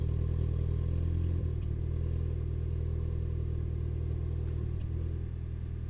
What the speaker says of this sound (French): Je te montre le ralenti qui est encore bien au-dessus.